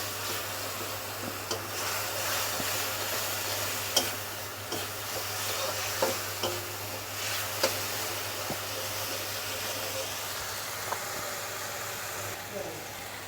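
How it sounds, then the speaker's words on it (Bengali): Spice paste with fenugreek sautéing in a pan for a crab and pumpkin curry, a steady sizzle broken by occasional clicks and scrapes of stirring, with a constant low hum and some talking. "সামান্য একটু কষিয়ে নেব।"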